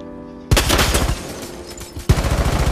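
Gunfire punching through a wall in Rainbow Six Siege: loud rapid automatic bursts, one sustained volley followed by a second sharp burst, close and harsh with a rattling rhythm.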